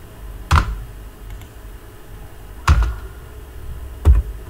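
Three separate keystroke taps on a computer keyboard, spaced about two seconds apart, close and fairly crisp against a quiet background.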